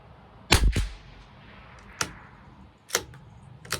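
A rifle fired at a target, outdoors on a range, gives one sharp loud report followed by a brief rumble, then two fainter sharp cracks further apart in an otherwise quiet setting.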